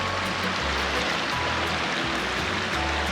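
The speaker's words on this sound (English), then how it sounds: "isn't that a beautiful little mountain stream?" Steady rushing of a mountain stream fed by spring snowmelt in Arizona near Prescott, water babbling and splashing continuously at close range, with no voices.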